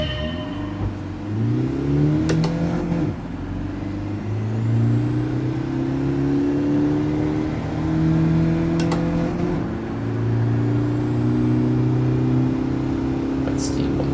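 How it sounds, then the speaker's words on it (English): A car in Gran Turismo 7 accelerates off the line, its engine note climbing through several rising gear sweeps. The tone is steady and fairly loud, with a sharp tick or two over it. "You need to accelerate off the line and stop inside the gold area."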